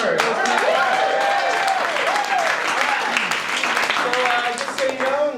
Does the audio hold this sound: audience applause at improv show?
yes